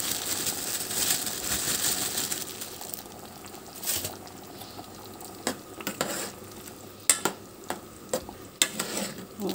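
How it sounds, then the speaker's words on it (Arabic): Peas going into a cooking pot with soft frying sizzle and stirring, ending in a few sharp close clicks of a utensil against the pot, with no voices. "هبتدي بقى انزل بالبزله بتاعتنا."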